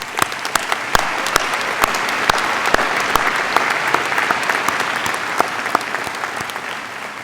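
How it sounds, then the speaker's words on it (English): Sustained audience applause at a Stanford Graduate School of Business diploma ceremony, dense even clapping from a large crowd with no talk over it. "Please join me in a round of applause for this exceptional group of students."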